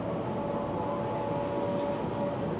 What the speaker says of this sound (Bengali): ওইখান থেকে আবার মেট্রো যাচ্ছে।